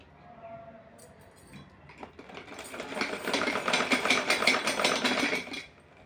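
A sewing machine stitching down a folded fabric strip on a small summer dress, starting with faint handling noises, then a fast, loud, even rattling hum for a few seconds before stopping abruptly.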